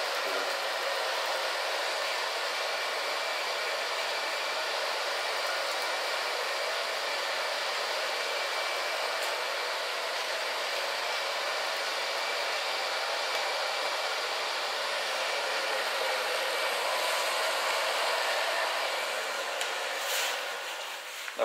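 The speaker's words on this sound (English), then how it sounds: "then I blow dry it a little bit more" A hair dryer blow-drying a freshly cut purple pixie hairstyle: a steady, close, full whooshing airflow runs unbroken for about twenty seconds, with no talking.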